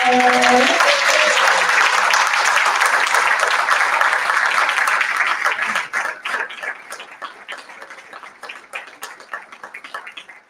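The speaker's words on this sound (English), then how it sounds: "could you all please give a round of applause" Audience applause at a bookstore and public library book launch, a sustained dense roar of clapping that thins out after about six seconds into scattered individual claps before fading.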